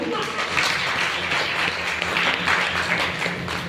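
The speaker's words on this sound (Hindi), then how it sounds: "इसलिए एक बार और तालियां बजा दो।" Audience clapping at a business talk in Kota, Rajasthan, a full, steady round of applause from a crowd that keeps up evenly throughout, with a voice faintly heard under the clapping.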